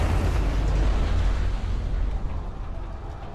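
A firework-like explosion in the video game Detroit: Become Human, a loud deep booming burst that fades into a rumbling decay over a few seconds.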